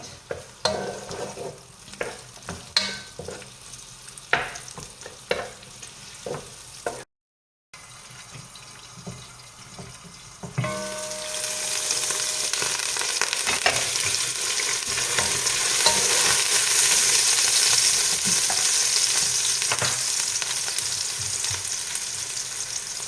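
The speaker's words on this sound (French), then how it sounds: "À feu moyen, on va faire cuire notre oignon à peu près 5 bonnes minutes." Finely chopped onion cooks over medium heat. Scattered taps and clatter come first, then after a short gap a loud, steady frying sizzle builds and holds.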